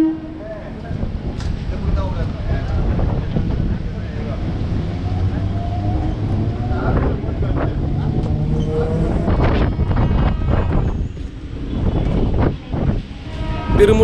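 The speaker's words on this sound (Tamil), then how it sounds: "இப்போ ட்ரெயின் உள்ளே என்ட்ரு ஆகுறதாங்க அண்ணனூர் ரயில்வே ஸ்டேஷன்" A train pulls into Annanur railway station on a suburban line, a loud, close, steady rumble with rail clatter and bursts of wheel and track noise throughout.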